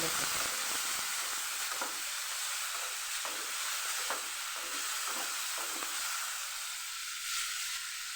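Tomatoes sizzle steadily in a hot pan while cooking for a tangy-sweet Kathiawadi tomato chutney, a dense close hiss with faint stirring scrapes and no talk.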